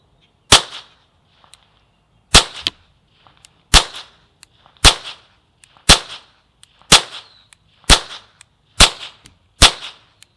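A .22 LR rifle fitted with a Bowers Group Bitty silencer fires eight sharp suppressed cracks, spaced about one to one and a half seconds apart, each with a short ringing tail, in an otherwise quiet outdoor setting.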